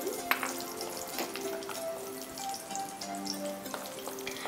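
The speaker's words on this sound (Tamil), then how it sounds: "இந்த கஷ்யூஸ் வறுக்கேக்கில் கொஞ்சம் லோ ஃப்ளேமில் வறுத்தா டக்குனு பிளாக் ஆகாது கருக்காது" Cashews frying in a hot pan over a low flame, giving a steady soft sizzle and crackle close by, with a faint tonal background and no talking.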